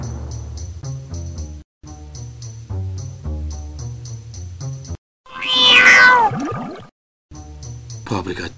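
Cat meowing in the PC game Frankenstein: Through the Eyes of the Monster, one loud, drawn-out wavering meow rising between stretches of game music, fairly close and clear.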